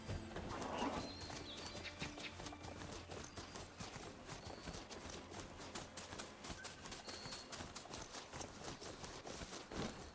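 Horse hooves clip-clop steadily on the ground in a game setting, with a brisk repeating rhythm at moderate distance and faint bird-like coos and ambient noise underneath.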